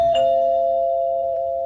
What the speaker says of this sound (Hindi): जब डोरबेल बजी